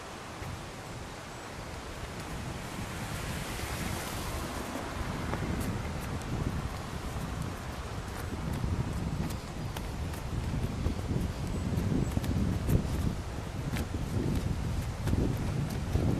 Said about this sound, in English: it's raining harder now.